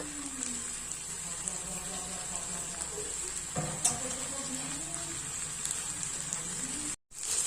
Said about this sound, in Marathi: आता आपण याच्यात वरून तीळ टाकून घेणार आहोत